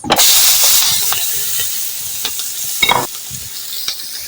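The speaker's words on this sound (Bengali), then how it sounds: "পেঁয়াজটা আমি এখন ব্রাউন কালার করে নিব" Onion fries in hot oil with bay leaves, green cardamom and cinnamon, giving a strong sizzle at first that settles into a steady hiss, broken by occasional spatula scrapes against the pan.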